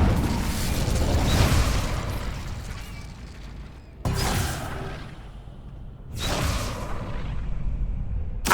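Incendio fire spell from Hogwarts Legacy erupts in three loud, roaring whooshes of flame, each sharp burst fading into a crackling rumble before the next cast.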